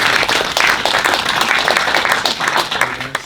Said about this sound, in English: this is a round of applause for Drew, our panel speaker.